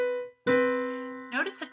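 A major seventh interval on a sustained, piano-like tone: a brief note cuts off, then a clear ringing note sounds and slowly decays, with a second, higher note entering near the end.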